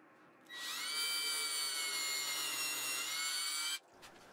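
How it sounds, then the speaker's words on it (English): Power drill boring a hole into wood for a woven lazy Susan, a steady high whine held for about three seconds before stopping abruptly, close and alone. "I drilled a hole at that location, being very careful not to punch all the way through"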